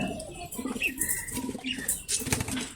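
Pet pigeons bathing together in a water tray flap their wings in short, busy bursts at close range, with splashing and rustling between the flurries.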